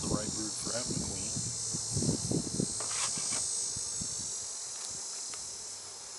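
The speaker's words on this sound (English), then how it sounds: "a lot of bees in here for not having a queen" Honeybees buzzing inside an open hive with worker brood, a steady high drone close by, mixed with soft rustling and handling knocks of frames, with no clear speech.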